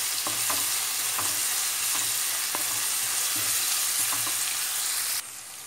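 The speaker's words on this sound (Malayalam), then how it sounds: "സവാള നമുക്ക് നല്ലപോലെ ഒന്ന് വഴറ്റിയെടുക്കാം." Sliced onions sauté in a hot pan for an egg puffs filling, giving a continuous close sizzle with occasional soft stirring scrapes and clicks, then the sound drops away just before the end.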